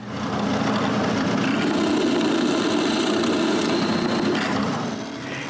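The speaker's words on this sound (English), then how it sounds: "I drill a center hole." A drill bores a center hole through a small wooden washer, a steady loud grinding whir held for about five seconds before tailing off slightly at the end.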